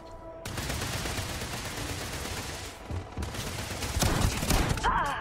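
Shotgun fire in the video game Starfield during a fight with Spacers on Altair II, a dense, loud, continuous barrage of blasts with overlapping shots that swells toward the end.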